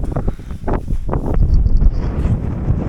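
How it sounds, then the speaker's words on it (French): Loud wind buffeting and rumbling against the microphone outdoors on a ski crossing of the Hardangervidda plateau in Norway, steady and close, with a faint rustle on top. "J'ai du vent quand même."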